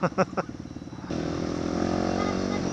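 Raider motorcycles passing through heavy traffic in Kabanatuan City, a few short engine bursts followed by a steady, loud drone of several motors close by, with people talking over the traffic.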